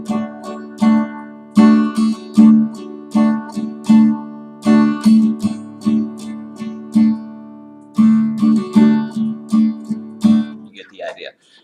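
Close, bright strummed guitar chords in a steady rhythmic pattern, ending with one extra strum before the ringing fades and some handling noise follows.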